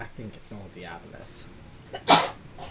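A single sharp sneeze bursts out near the end, loud and close, following a stretch of conversational talk in a tabletop role-playing session.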